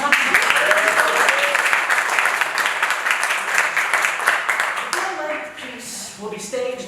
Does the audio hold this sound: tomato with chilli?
no